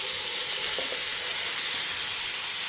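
Food frying in a very hot kadai gives a steady, loud hissing sizzle, broad and unbroken throughout, close by with no one speaking.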